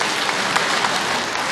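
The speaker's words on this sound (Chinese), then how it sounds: "掌声送给他。" A live audience at a Shanghai comedy opera showcase claps in a brief, dense burst of applause, loud and close throughout.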